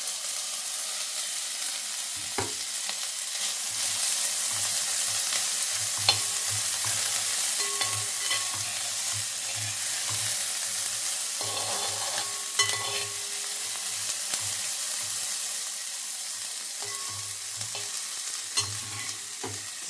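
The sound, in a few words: onions, ginger and garlic frying and being stirred in a pan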